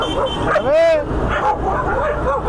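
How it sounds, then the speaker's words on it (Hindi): Street dogs fighting on a city street at night, with a loud yelping whine, sharp yips and barks coming in bursts, while people talk nearby. "सामने देखो कुत्ते लड़ रहे हैं भाई"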